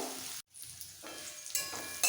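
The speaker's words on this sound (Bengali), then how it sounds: "হালকা ভেজে নেব খুব বেশি ভাজবো না" Steady sizzling of onions frying lightly in a pan for chicken roast, a continuous hiss with a brief gap near the start, moderately loud and close, no voices.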